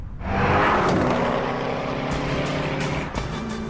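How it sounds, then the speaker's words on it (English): A Koenigsegg Agera hypercar driving past, a loud roaring engine swell that rises quickly and then holds as a sustained rumble and whine, heard close with no voices. "The Agera's precise aerodynamic design and monster engine provides enough power to drive this hypercar to a staggering 440 kilometers per hour."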